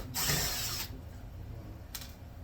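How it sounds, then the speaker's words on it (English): A power supply casing having screws backed out of its top with a ratcheting tool: a loud, close burst of rapid clicking, a pause filled with low handling noise, then a second brief burst near the end. "let's get some of these screws out of the top of it"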